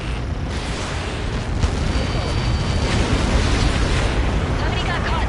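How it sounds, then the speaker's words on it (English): A massive blast from the Ace Combat 7 flight combat game, a loud sustained roaring rumble that fills the whole stretch, with radio voices over it. "How many got caught in that explosion?"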